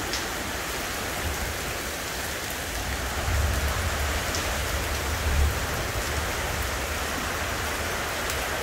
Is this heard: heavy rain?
yes